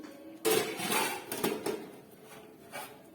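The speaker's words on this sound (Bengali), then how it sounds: "এবারে আমি ঢাকাটা খুলে নিচ্ছি" A lid comes off a pot of rice cooking on a pressure cooker with a sharp metallic clank, followed by a few softer rattles and knocks of cookware, fairly close and otherwise quiet.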